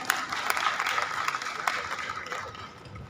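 Audience applause at a Betawi community association gathering, a steady broad wash of clapping lasting the whole stretch at moderate level, with some voices mixed in.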